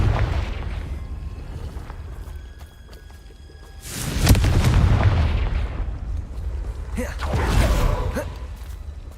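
Confringo explosive spell going off in the Hogwarts Legacy video game, two loud booming blasts a few seconds apart over a low rumbling game background.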